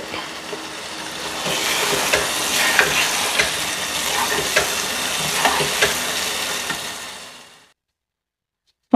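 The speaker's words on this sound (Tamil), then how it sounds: "ஸோ இந்த 2 உருளைக்கிழங்கு எடுத்து வச்சுருக்கேன் வறுக்கிறதுக்கு." Two potatoes sizzle steadily as they fry in a pan, with a close, crackling hiss and occasional pops that run evenly for about seven seconds before cutting off, without any talk.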